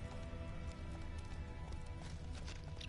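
Roach the horse gallops in The Witcher 3, a steady rapid clip-clop of hooves running continuously under game music and ambience, fairly close and even in loudness throughout.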